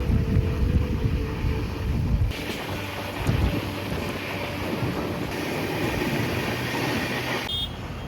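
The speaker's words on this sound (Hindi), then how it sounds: "सराई घाट के आसपास ट्रेन कुछ देर के लिए रुक गई" A train near Saraighat, Guwahati, rumbling and rattling as it slows, heavy low-frequency rolling noise with wind buffeting that eases to a steadier, quieter hum, and a brief faint squeal near the end.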